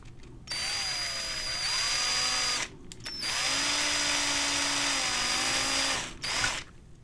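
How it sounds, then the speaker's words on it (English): A power drill bores a hole through plastic in a radio-building project, whining in two sustained runs with a short pause between them, close and steady. "So I drill a hole in the plastic there."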